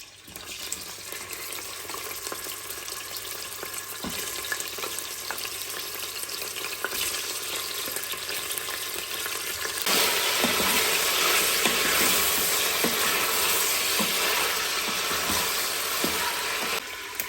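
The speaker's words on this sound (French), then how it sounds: "Faire revenir tout ça avec les oignons" Meat browns with onions in a hot pan, giving a steady loud sizzle with occasional spoon scrapes and clinks, the hiss swelling louder partway through and holding; nobody speaks.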